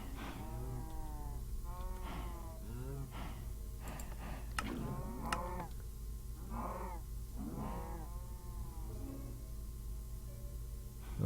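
Cows mooing in a farming video game, several low drawn-out moos repeating at a moderate distance over a steady quiet background hum.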